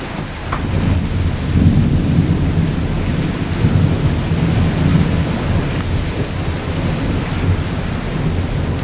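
A heavy thunderstorm with steady rain pours onto surfaces nearby while deep thunder rumbles and rolls continuously underneath, no voices present.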